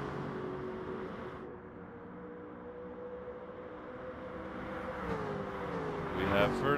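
Race cars in a sim racing game run in a line down the back straight, a steady engine drone under commentary that builds and rises in pitch near the end.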